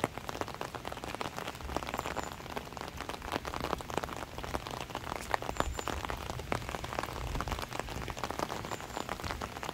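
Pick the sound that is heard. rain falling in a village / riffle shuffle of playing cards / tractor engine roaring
rain falling in a village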